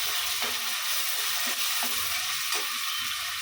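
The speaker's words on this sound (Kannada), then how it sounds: "ಸ್ವಲ್ಪ ಅಂದರೆ ಒಂದೂವರೆ ಟೇಬಲ್ ಸ್ಪೂನ್ ಅಷ್ಟಿದೆ ಶುಂಠಿ ಬೆಳ್ಳುಳ್ಳಿ ಪೇಸ್ಟ್ ಹಾಕ್ತಾ ಇದ್ದೀನಿ" Ginger garlic paste sizzles in a pan over low flame with frying onions, a steady loud hiss broken by a few scraping stirs and clicks, with no voice over it.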